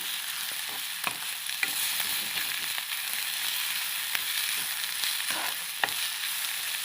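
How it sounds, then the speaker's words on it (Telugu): Egg biryani curry ingredients fry and get stirred in a pan, giving a steady broadband sizzle throughout with occasional sharp scrapes and clicks of a spoon, close and continuous, with no talking. "ఇలా వేపేయాలి"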